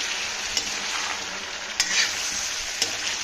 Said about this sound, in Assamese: ইয়াত মই কেঁচা পিঁয়াজ আৰু জলকীয়া ফালি দিলোঁ